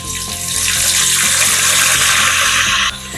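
Curry leaves hitting hot oil that already holds mustard seeds and fenugreek, giving a loud, close, rushing hiss that holds steady for about three seconds before dropping off.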